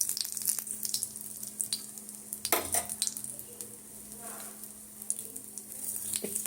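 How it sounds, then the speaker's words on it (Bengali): Asafoetida sizzles in hot oil in a wok, a steady close frying hiss with a few clinks of utensils and a brief stir partway through, and no talking. "দেখো কড়া চাপিয়েছি, এবারে হিং দিলাম"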